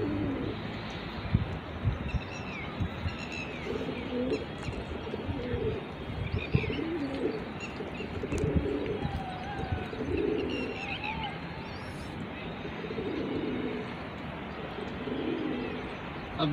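A pigeon whose wing has just been freed coos repeatedly, soft low rounded calls recurring every couple of seconds over a dense, busy background of chirping birds.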